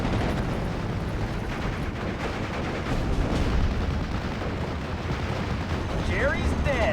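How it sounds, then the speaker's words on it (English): Heavy gunfire and explosions in the WWII strategy game Steel Division Normandy 44, a dense continuous barrage of rumbling blasts and shots at steady loudness throughout. "We're taking heavy fire."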